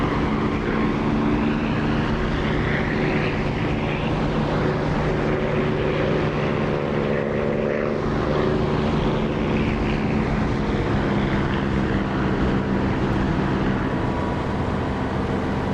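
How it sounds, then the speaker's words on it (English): Steady, loud drone of a Spitfire's piston engine from the DCS flight sim, played through the Echo 19 sound mod. A dense propeller roar holds throughout with a slight swell midway, and no talking. "I'm using the engine sound produced by Echo 19 for this bit, not the DCS Spitfire sound"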